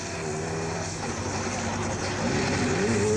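A turbo diesel buggy races along a Dakar rally stage, its engine a continuous rough drone that rises in pitch and loudness toward the end, with a commentator's voice faintly underneath.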